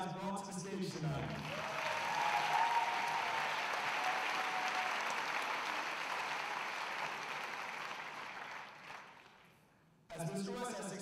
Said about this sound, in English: Let's give a big round of applause for all the talents these guys brought to the stage tonight.